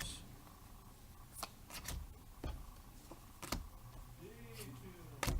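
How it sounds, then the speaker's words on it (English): Playing cards being shuffled at a tabletop card game session, a deck riffled in several quick bursts of crisp ticking flutters with quieter handling in between, fairly close and moderately loud, no talk. "You're gonna see so much shuffling today."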